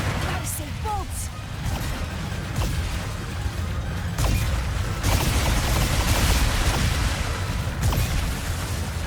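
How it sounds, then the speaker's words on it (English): Rapid explosions and blasts in the action game Ratchet and Clank Rift Apart, a dense barrage of booms and crashes layered over game effects and character talk. "Deploying amphibious explosives."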